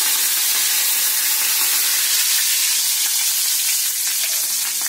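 Mustard seeds sizzle in a hot pan of oil for uppittu, a loud, dense, unbroken hiss with faint crackles running the whole time and no talking.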